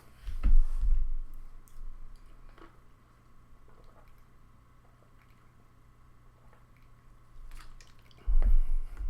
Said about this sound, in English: Got a little water bottle action.